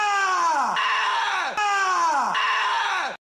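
A man screams as loud as he can, two long, strained cries one right after the other, each falling in pitch as it fades, loud and close before abruptly cutting off.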